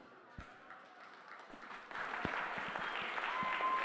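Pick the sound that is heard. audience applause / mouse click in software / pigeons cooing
audience applause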